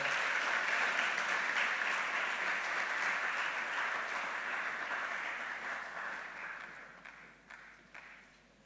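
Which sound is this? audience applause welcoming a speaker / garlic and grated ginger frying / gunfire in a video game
audience applause welcoming a speaker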